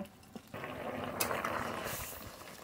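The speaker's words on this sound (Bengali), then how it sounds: "তরকারি এবার একটু জাল দিয়ে নেব" Pumpkin and jiol fish curry with green chillies bubbling in a pot, a steady close simmer with dense watery bubbling and a brief sharper hiss partway through, no voices.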